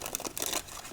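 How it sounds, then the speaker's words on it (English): A deck of playing cards is shuffled twice in quick crisp riffles, close and clear with no talk. "Let's give this deck 2 more shuffles"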